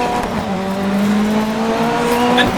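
A rally car in DiRT 3 rallycross slips and skids, its engine droning loud and close while the tires squeal and scrub across the surface in a continuous smear.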